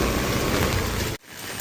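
Heavy rain pours down in a loud, dense wash of noise that cuts off abruptly near the end, leaving a fainter patter of falling rain.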